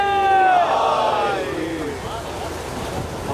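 Crowd at a Chehlum religious procession shouting a slogan in unison, a loud, sustained chorus of voices that swells and then fades, with speech around it.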